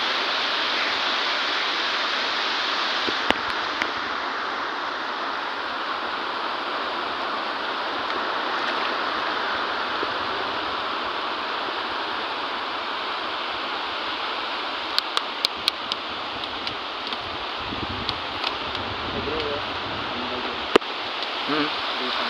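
A stream's flowing water rushes in a continuous, fairly loud broadband wash across the whole stretch, with a few faint clicks and bumps over it and no clear voices.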